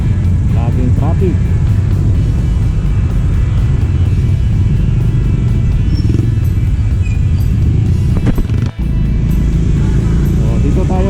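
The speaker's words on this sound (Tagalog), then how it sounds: "So na ito yung traffic situation ng Novaliches." Heavy road traffic in Novaliches, Philippines, with car and motorcycle engines making a steady, loud, close rumble that continues for the whole stretch, and voices talking in the background.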